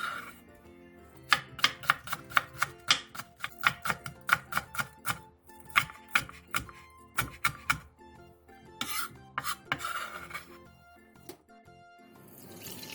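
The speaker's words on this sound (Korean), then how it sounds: "청양고추 2개를 어슷 썰고 대파 2분의 1개는 쫑쫑 썰어주세요" A kitchen knife slices Cheongyang chili peppers on the diagonal and finely chops green onion on a cutting board, making a quick run of crisp, evenly spaced taps that pause and resume, close and clear with some faint tonal background.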